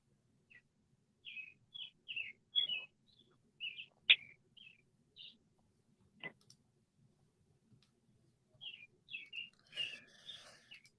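Birds chirp and tweet in short bursts, scattered calls near and far with quiet gaps, plus a couple of sharp clicks.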